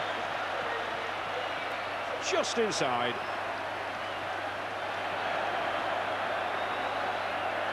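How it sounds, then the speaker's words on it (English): A stadium crowd at the 1985 Challenge Cup Final between Hull and Wigan roars steadily throughout, a dense, loud wash of cheering with a commentator's voice briefly audible over it. "And the whole crowd's got something to shout about."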